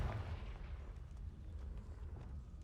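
Repeated fiery spell blasts from Confringo in the Hogwarts Legacy video game, a dense stream of booming explosive bursts with low rumble throughout, close and loud with no talking.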